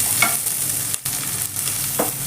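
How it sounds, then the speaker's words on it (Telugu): Green chillies frying in a pan for a curry, a steady close hiss of hot oil with a few soft stirring scrapes and brief bubbling flares. "మిర్చి వేగింది తీసి పక్కన ఉంచుకుందాం"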